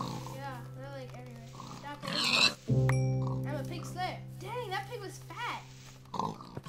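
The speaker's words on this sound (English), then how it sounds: "I'm killing a bunch of these pigs because there's way too many of them." Pigs oinking in the video game Minecraft, several short grunts mixed with game effects and a sharp hit sound, all under people talking throughout.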